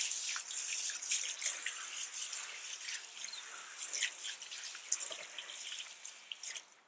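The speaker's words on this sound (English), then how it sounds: "I'm gonna spread some water into the wheel." Water spread onto a car wheel during a wheel cleaning, a soft, continuous hiss and splash with scattered drips and trickles, fairly faint and close, with no voices.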